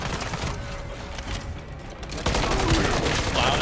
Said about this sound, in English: All I hear is your gun.